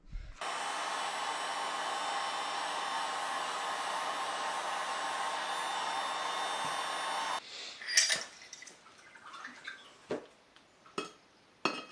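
A heat gun blows steadily while warming a KTM motorcycle fork tube around the bushing, an even hot-air whir for several seconds that cuts off abruptly, followed by scattered clinks and handling noises of metal parts.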